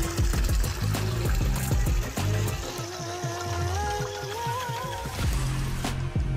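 Water gushes steadily out onto a village farm field, a continuous broadband rushing and splashing that stays loud and close for the whole stretch.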